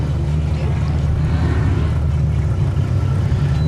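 Off-road race car on the rock course at Chocolate Thunder, its healthy, pipey engine holding a loud, steady growl with a heavy low-end rumble for the whole stretch, close to the microphone.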